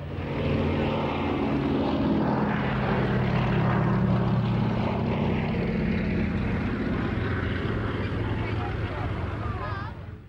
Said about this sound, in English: It's hard to imagine a slow, lumbering biplane being an operational success, but the exploits of the Swordfish are legendary